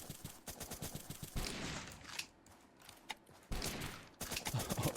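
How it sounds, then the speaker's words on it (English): Rapid bursts of Dragunov sniper rifle fire and other gunshots in a video game firefight, loud and repeated, with dense volleys at the start and end and a quieter stretch between. "You got shot with a Dragunov, dude."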